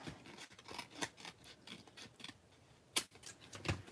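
Snips trim material in a quiet, close sequence of soft rhythmic cuts and rustles, ending with a couple of sharper clicks.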